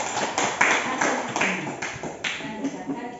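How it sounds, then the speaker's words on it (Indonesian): A classroom group of students gives a short burst of applause for a student group, a dense patter of claps that fades over about three seconds, with voices mixed in. "Tepuk tangan untuk kelompok 3"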